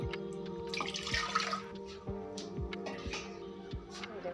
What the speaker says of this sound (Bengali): দেখুন 4 মগ পানি আমার দেওয়া হয়ে গেল।